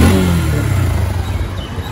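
A Yamaha Fazer motorcycle engine, freshly treated with a Wurth engine flush, revs loudly up close, its exhaust note swelling and then settling with a slight pulsing throb over two seconds.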